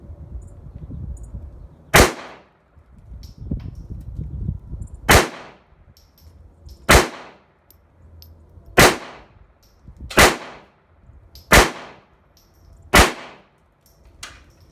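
A handgun fitted with a green laser sight being test-fired, seven sharp loud shots spaced a second or two apart with short decays, quiet between shots and no talk.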